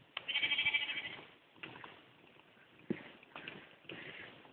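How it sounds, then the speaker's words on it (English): Sheep and lambs bleating in a field, several separate calls at moderate distance with quiet gaps between them. "Sheep's up there. Can hear them."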